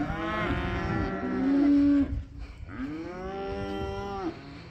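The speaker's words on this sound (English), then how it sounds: "Good cattle." Calves in new pens give two long, loud moos close by, one after another with a short gap between.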